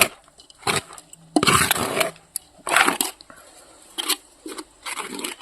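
Gram flour and coriander being stirred into a thick batter, with bursts of wet, squelchy mixing and scraping against the bowl that come in short irregular strokes, close and fairly loud, with quiet gaps between them.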